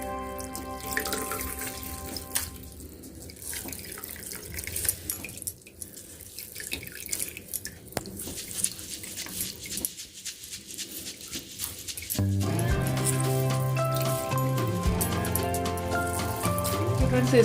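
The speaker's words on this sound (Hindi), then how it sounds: "जितना भी पानी है उसको अच्छे से आपको निचोड़ लेना है।" Water from curdled milk chenna trickles and drips as it is squeezed in a cloth over a sink for Bengali rasmalai. The patter runs steadily and fairly close, and a louder tonal stretch joins near the end.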